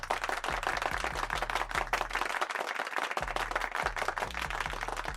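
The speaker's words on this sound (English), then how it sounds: "Let's give him a round of applause." Brief clapping and applause rattle over a thumping, stepping low bass beat, moderately loud and continuous across the few seconds.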